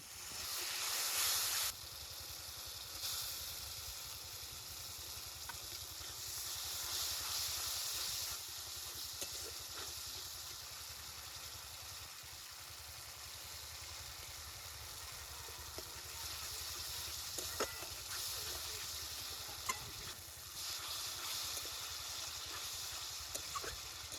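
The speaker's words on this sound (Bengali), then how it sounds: "ওর মশলাটা আমি ভালো করে কষি নেব আর মশলার ভিতরে দিয়ে দেবো আলু দিয়ে আলু দিয়ে ভালো করে কষি নেব" Spices for a spicy rohu fish curry with potatoes sizzle softly in a pan, a low, continuous fry with occasional stirring clinks and no talking.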